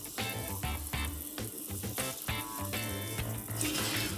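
Warm water runs steadily over a vintage Zilco cymbal as cleaning solution and grime are rinsed off in a sink, a continuous close splashing flow lasting throughout with no talking.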